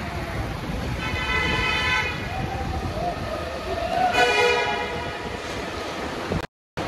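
A train horn sounds at night in Kota, Rajasthan: two sustained, tonal blasts, the second slightly louder, carrying over steady road traffic noise at moderate distance.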